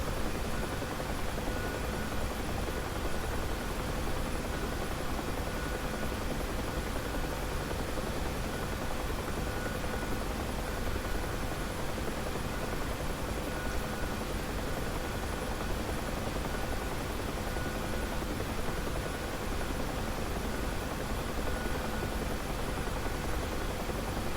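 UH-1 Huey helicopter in the DCS World flight simulator: a steady, dense rotor and turbine roar with constant whine, loud and unbroken throughout with no voices.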